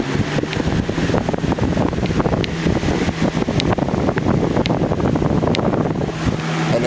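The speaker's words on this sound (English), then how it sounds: "I'm going to start this fan up on high" A 2000-01 GE box fan, model 106620, runs on high with a loud, steady whooshing airflow and constant rumble, close to the microphone and alone.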